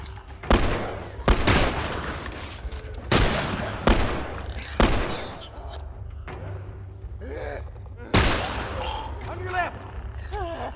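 Several loud, sharp gunshots ring out at irregular intervals in the video game The Last of Us, with gasps and some voices in between.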